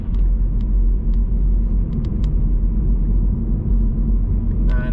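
A car driving along a road in Lincoln during a learner's driving lesson at around 30 mph, steady loud cabin rumble of engine and tyres throughout, with a few faint ticks and a brief higher tone near the end.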